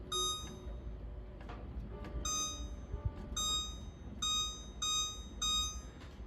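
Oven timer beeping in a kitchen, repeated bursts of shrill electronic beeps in a regular pattern, fairly close over low background noise.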